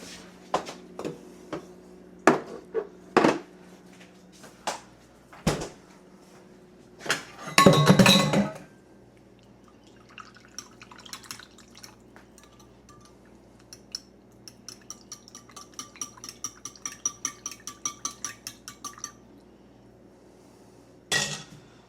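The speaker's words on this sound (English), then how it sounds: "I'm gonna move the cookie dough from the mixer bowl into another bowl." Cookie dough being shifted from a mixer bowl into another bowl: sharp clinks and knocks of a utensil against the bowl, a brief scraping clatter, then a run of quick light taps before a final clink.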